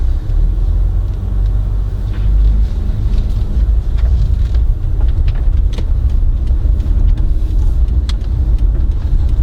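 Inside the cabin of a 2005 Lexus RX 300 pulling away and driving, a steady low engine and road rumble dominates, constant and fairly loud, with light faint rattles and no talking.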